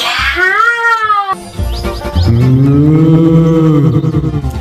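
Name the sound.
cow mooing in cartoon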